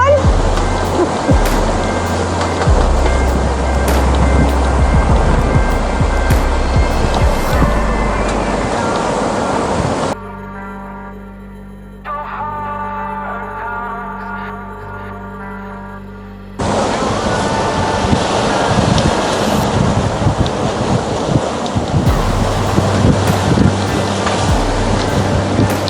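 Heavy seas break and rush around a sailing boat running fast downwind, a loud continuous roar of surf and wind buffeting the microphone, with a quieter muffled stretch in the middle.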